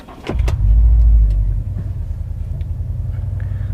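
A 2016 Subaru WRX STI on new wheels drives off with a loud low engine rumble that swells early, then settles into a steady road drone inside the cabin.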